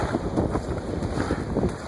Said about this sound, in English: The waves are still coming in.